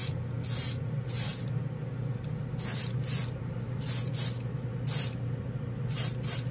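Repeated short bursts of airbrush spray laying down Jumpwind pearl glaze paint at lowered air pressure, each hissing puff separated by brief pauses over a low background hum, close and moderately loud.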